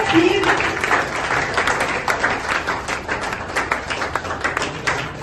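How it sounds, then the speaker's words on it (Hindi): Audience applause welcoming a guest on stage at an office opening ceremony, steady dense clapping throughout with crowd noise and voices mixed in. "जोरदार ताली से स्वागत करें।"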